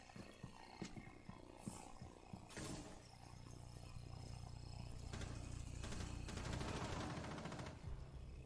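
Rapid bursts of gunfire and booming blasts from Rainbow Six on PS4, fairly loud, building into a dense rumbling barrage before tapering off.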